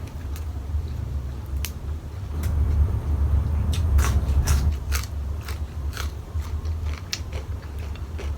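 Fresh raw vegetables eaten with dried fish kidney curry and rice noodles, giving close crunchy bites and chewing sounds over a low steady background rumble, with a few sharp crackles.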